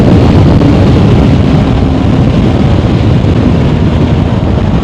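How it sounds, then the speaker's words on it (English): Kawasaki Versys X-300 motorcycle engine screaming at high revs up to about 12,000 RPM, a loud, steady, sustained roar filling the whole stretch with no talking. "So I love how the bike revs."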